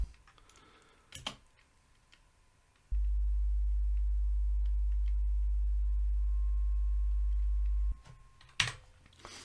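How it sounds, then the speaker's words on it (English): A loud, steady low-pitched subwoofer test tone holds for about five seconds between faint clicks and soft taps, with a thin higher tone running quietly alongside. "let's go back through and listen to our test tones again"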